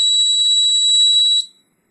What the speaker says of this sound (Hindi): दोस्तों देखिए, मैग्नेट को सेंसर के सामने से हटाते ही बजर बजने लगा।